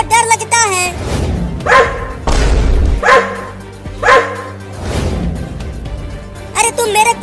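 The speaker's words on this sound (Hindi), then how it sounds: "अरे देखो वो कुत्ता कितना बड़ा है और वो गुस्से में भी है।" A big angry cartoon dog barks loudly in several spaced, gruff bursts, with character voices talking between and around them.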